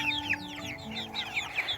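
Young chicks peep in quick, high, repeated chirps, fairly faint over a steady low background hum, with no talk.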